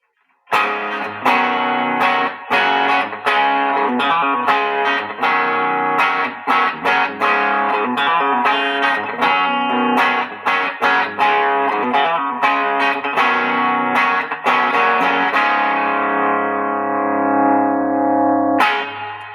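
Distorted electric guitar played through overdrive, with repeated strummed chords and sustained notes, loud and reverberant, ending on a ringing chord.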